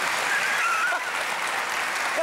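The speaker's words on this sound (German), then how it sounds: "Beifall." A TV studio audience on the German comedy show TV total breaks into steady, dense applause that holds for a couple of seconds. Light voices sit faintly under the clapping.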